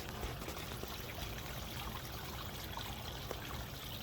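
Water from a garden pond spilling over a waterfall rock, a continuous close, steady splashing trickle with no pauses.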